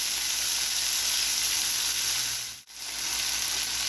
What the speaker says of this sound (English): Now I'm just going for that high heat sear.